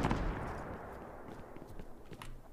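Gunfire in the survival video game Rust, with a heavy shot at the start followed by scattered sharper cracks and thuds over a rumbling background.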